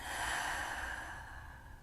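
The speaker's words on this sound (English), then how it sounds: "Big inhale, big breath out." A single deep breath during a Pilates and yoga session, a soft airy inhale flowing into a long exhale, close but quiet and fading toward the end.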